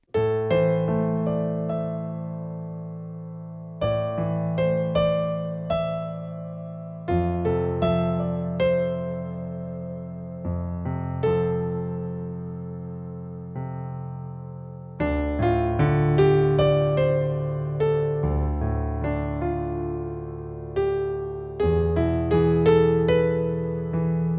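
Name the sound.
piano arpeggio with added scale notes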